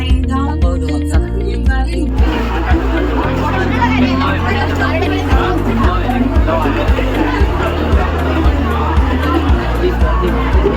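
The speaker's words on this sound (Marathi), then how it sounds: "बेकार अशी गर्दी भाऊ." Dense hubbub of a packed Dadar railway station in Mumbai, with constant overlapping chatter, footsteps and bustle, a steady loud babble and a recurring rhythmic thumping beneath, while someone talks close by.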